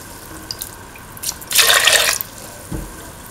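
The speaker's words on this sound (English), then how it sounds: "Now pour in 250 ml of coconut milk." 250 ml of coconut milk is poured into a pan for an egg, potato and mint stew, making a brief close splash of liquid that lasts under a second, followed by a soft thud.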